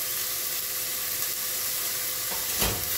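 Lentils and rice pour into a pan of sizzling onions, garlic and ginger, the steady frying hiss broken near the end by a louder burst of sizzle as the grains hit the hot oil.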